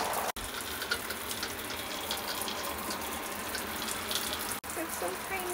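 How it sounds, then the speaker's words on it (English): Water from a tiny shower in a small RV bathroom runs in a steady, even hiss that stays constant throughout. "This is my new shower."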